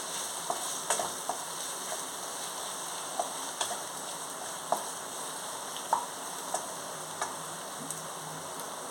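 Mushroom fried rice fries in a pan with a soft, continuous sizzle, dotted with scattered quiet clicks and taps as it is stirred, fairly faint and with no talking.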